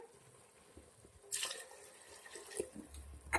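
Water splashes and trickles into a pressure cooker of sautéed rice for Rajasthani Rathodi pulao, in short bursts, a louder pour near the start and drips after, fairly close with a faint background hum.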